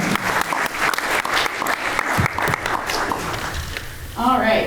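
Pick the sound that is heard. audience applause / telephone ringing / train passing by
audience applause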